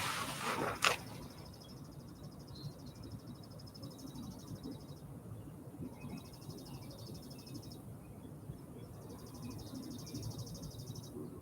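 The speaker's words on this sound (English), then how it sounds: "I listen to the birds." Faint, high birdsong trills repeat in long stretches over a soft morning outdoor hush, with one brief knock near the start.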